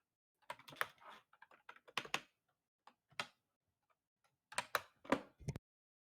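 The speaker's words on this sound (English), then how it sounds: "Sounds like someone's typing." Bursts of typing on a computer keyboard, quick clusters of close, crisp key clicks separated by short pauses, quiet and alone with no voices.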